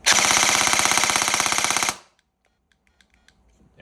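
A Kestrel V2 airsoft AEG fires a rapid full-auto burst of about two seconds, a loud fast-clattering stream of shots that cuts off sharply and leaves near silence with a few faint clicks.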